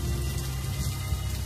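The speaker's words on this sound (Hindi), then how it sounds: "कबीर ये करके बारिश में वापस बेतहाशा भीगता हुआ घर पहुंचा" Steady rain falls in a continuous soft hiss with faint pattering drops, sounding moderately close and even throughout.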